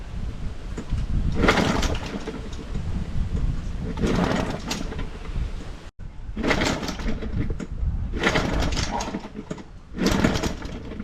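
A Hangkai outboard motor with a wonky pull starter catching the flywheel being pull-started, four loud rasping bursts of cord-yanking and cranking recurring every couple of seconds over a steady background hum.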